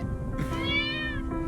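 A cat in the video game Copycat gives one drawn-out, rising-and-falling meow, loud and close, over a quiet backdrop of game ambience.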